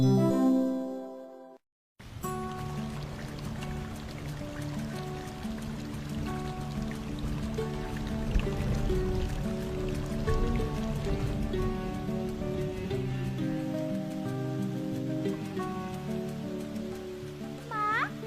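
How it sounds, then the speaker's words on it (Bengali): Heavy rain falls outside in a cartoon scene, a steady close hiss running under background music after a brief moment of silence. "খুব বৃষ্টি হচ্ছে বাইরে।"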